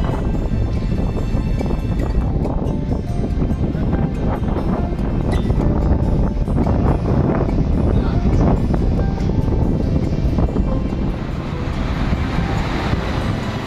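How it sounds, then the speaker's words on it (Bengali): Rough sea waves churn at the Digha shore in rain and wind, a loud, dense continuous roar with gusty wind buffeting the microphone, sustained without break throughout. "বৃষ্টিতে সমুদ্র যেন আরো উত্তাল হয়ে উঠেছে।"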